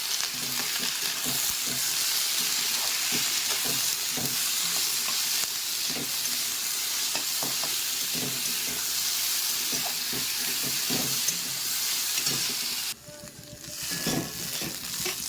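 Steady, loud sizzling of spices with sesame seeds, turmeric and salt dry-frying in a hot pan, with occasional stirring scrapes and clinks, cutting off sharply near the end.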